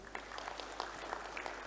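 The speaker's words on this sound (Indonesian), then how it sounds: "Tepuk tangan semuanya." Graduation audience applause at an STKIP YASIK ceremony, a steady wash of many hands clapping at moderate distance, fairly faint and continuous throughout.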